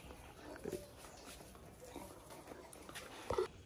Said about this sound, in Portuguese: Foxhound americano puro.